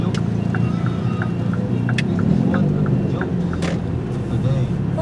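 Car engine rumbling steadily through busy Davao City traffic, a continuous low drone with passing vehicle noise and faint horn-like tones, while people talk over it throughout.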